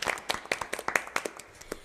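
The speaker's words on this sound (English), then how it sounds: "Big round of applause for Anna." Sparse applause from a small audience after a UC Santa Barbara Chamber Choir livestream, a few scattered hand claps in an irregular rhythm, quiet and thin, with no voices.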